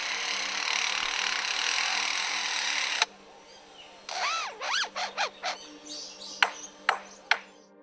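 An Australian lyrebird mimics mechanical sounds: a steady whirring, machine-like drone breaks off, then comes a run of swooping electronic whistles and several sharp, separate metallic pings, close and clear, with no talk.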